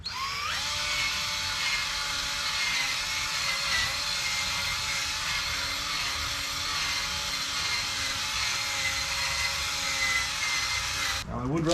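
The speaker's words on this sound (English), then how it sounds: "apply about a nickel size, that's a little bigger than a nickel, onto the pad worth of product, and then work it into the headlight" A drill spinning a polishing pad while buffing a hazy car headlight whines steadily and close, a continuous high-pitched motor tone that stops abruptly at the end.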